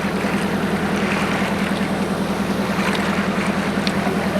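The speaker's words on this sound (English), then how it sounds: "Big lobster boat coming in." A big lobster boat comes in through a harbour gap off Mount Desert Island, Maine: a steady, loud low engine drone with a regular throb under wind and water noise.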